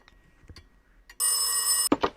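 A telephone rings in a VRChat world, one loud burst of electric bell ringing lasting under a second, followed by brief voices.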